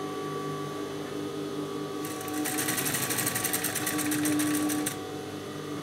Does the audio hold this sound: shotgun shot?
no